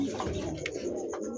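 A pair of homogeneous-coloured racer pigeons give soft, low cooing over a steady background hum, with a faint chirp near the middle.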